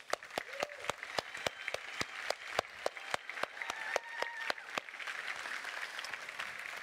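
A church congregation at a family service applauds the children's helpers with a run of crisp, evenly spaced claps that carry on for several seconds and then fade out.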